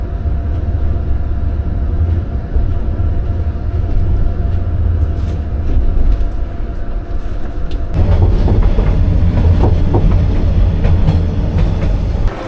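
A train in Vietnam, heading toward the Chinese border near Lao Cai, rumbles loudly along the rails with a continuous low roar and rhythmic clickety-clack that grows busier partway through, heard from on board with no voices.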